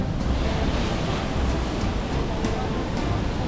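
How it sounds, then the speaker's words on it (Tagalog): Strong ocean surf pounds a foggy coastline in Ilocos Norte, a dense, continuous roar of breaking waves with wind buffeting the microphone, loud and steady throughout. "Lakas ng alon."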